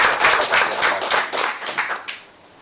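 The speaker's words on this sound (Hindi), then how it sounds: "जोरदार तालियों के साथ हम यहाँ पर इनवाइट करेंगे" An indoor audience at a business plan presentation claps to welcome a speaker, dense and lively applause for about two seconds before tapering off, with no talking over it.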